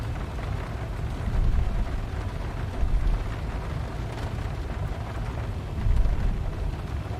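Thunder in the X-Plane flight simulator with the Zibo mod, a steady low rumbling wash with slow swells of louder rolling, no talking over it.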